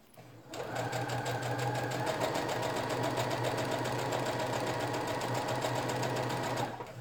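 A sewing machine stitches a zipper sandwiched into wallet material at a shortened stitch length, running in a steady, fast, close mechanical whir for about six seconds before stopping.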